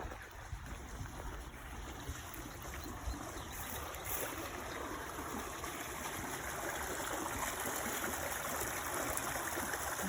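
Spring water flows steadily through a marsh, a continuous broadband rush and trickle like a small fast stream, close and unbroken for the whole stretch, with no talking.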